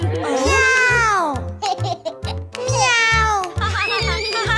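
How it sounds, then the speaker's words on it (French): A cartoon cat meows in a French children's cartoon, two drawn-out high meows separated by a short pause, with cheerful music and a child-like voice around them. "Oh, c'est un chat!"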